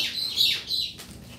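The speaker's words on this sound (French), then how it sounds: "Oh, un oiseau." A bird chirps nearby in a few quick, bright, sweeping calls that fade into a faint chirp, with no talking over it.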